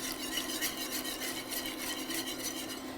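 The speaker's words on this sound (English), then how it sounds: "now I'm going to whisk in the half and half" A whisk scrapes briskly and steadily around a pan as half and half is worked into a sauce for fresh green bean casserole, a close, continuous rasping with quick rhythmic strokes and no talking.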